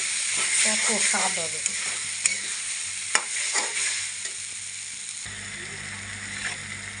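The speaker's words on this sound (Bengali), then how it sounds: "আর একটু কষানো হবে আলুর দমের মশলা যত কষানো হবে" Spice masala for spicy potato curry frying in a pan, with a steady hiss of sizzling oil and scraping, clattering strokes of a spoon stirring, loud and close, dropping to a quieter simmer near the end.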